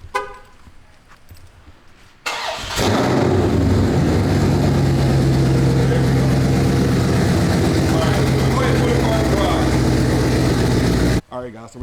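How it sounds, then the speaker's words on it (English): Widebody Dodge Scat Pack engine bursts to life on a cold start after a quiet moment with talking, then holds a loud, close, rumbling roar for around nine seconds before cutting away. "let me go ahead and give y'all the next cold start here"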